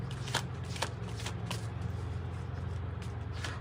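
A deck of tarot cards being shuffled, a few soft riffling bursts over a steady low background hum, close and fairly quiet with no talking.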